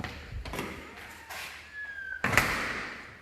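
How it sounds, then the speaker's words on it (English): A house door is pushed shut inside a home during an open-house walkthrough, with a few soft thumps and handling sounds, a brief squeak, then a firmer closing thud near the end, close and moderately loud. "I'm going to make sure this door is closed."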